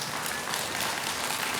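Dense, steady applause from an audience at a Buddhist Saturday dharma service carries on without a break, loud and close.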